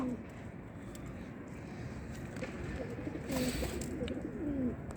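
Soft cooing from a white-and-blue pigeon repeats over a low rumbling background, the bird fairly close but quiet, with faint murmuring beneath.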